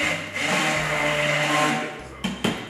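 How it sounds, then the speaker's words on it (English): An immersion blender whirs steadily through a vegan cauliflower fennel bisque in a pot, a loud continuous motor buzz that ends with a couple of short bursts. "So the immersion blender is a great tool."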